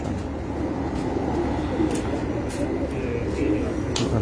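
On a rooftop, a pigeon coos in repeated low, throaty phrases, close and steady, with faint rustles, brief clicks and outdoor background noise.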